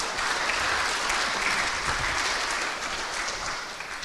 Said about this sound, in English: give applause please for Pak Arif